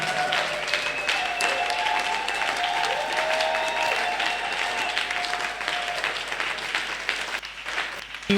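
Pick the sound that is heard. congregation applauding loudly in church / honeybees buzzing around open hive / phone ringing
congregation applauding loudly in church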